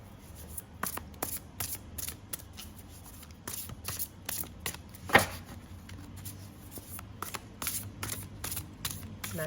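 A deck of tarot cards is shuffled by hand, producing a run of quick riffling bursts and soft slaps close up, with one sharper tap in the middle and no talking.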